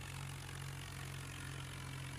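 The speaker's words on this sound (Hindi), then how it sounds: "देखिए गाइस इतना धीरे धीरे चढ़ रहा है," A Mahindra or Swaraj 744 tractor diesel engine labours steadily as it slowly climbs a road, a continuous low droning rumble with an even throb, close and unbroken, with no voices.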